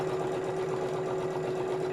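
A sewing machine runs steadily, stitching fabric for a laptop pouch; its motor holds a constant hum with a fast, even needle rhythm, close and continuous throughout.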